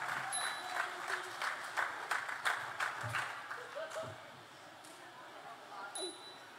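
Applause from an audience at a northern Thai folk band contest (salo-sueng ensemble) for a band of school pupils, a steady patter of clapping that thins toward the end, with a few light metallic pings over it.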